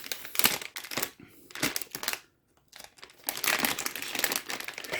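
A plastic bag around a boxed Asus X550JX laptop battery crinkles and rustles loudly and close up in bursts, with a brief quiet pause in the middle before the handling resumes.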